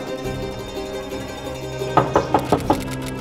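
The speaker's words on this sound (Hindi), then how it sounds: "दीप्ति जरा देख तो बेटा बाहर दरवाजे पर कौन है" A door is knocked on in a quiet indoor home, five sharp raps in quick succession near the end after a stretch of low room hum.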